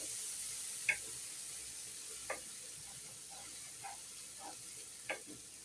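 An onion, garlic, cumin and coriander paste frying in oil for a fish bhuna, giving a soft, steady sizzle with occasional faint pops and stirring sounds.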